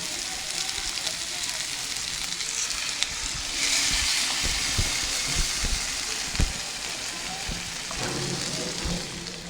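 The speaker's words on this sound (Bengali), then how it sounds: "কাঁকড়ার আলুটা কষানো হয়ে গেছে, এবার আমরা জল দিয়ে দিচ্ছি" Water is poured into a pan of frying crab and potato curry, bringing a loud burst of hissing and bubbling, with sharp pops and crackles scattered through the sizzle, close by.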